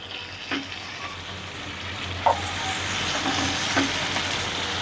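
Prepared pav masala frying in a pan, a steady close sizzle with a few brief stirring scrapes and clinks over it.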